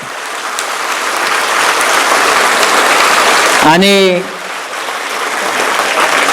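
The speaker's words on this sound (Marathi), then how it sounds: "एकदा पुन्हा हात वर करून टाळ्या वाजवा" An audience at a motivational talk claps together in a broad, steady wash of applause, while a voice briefly speaks over it and the clapping carries on after.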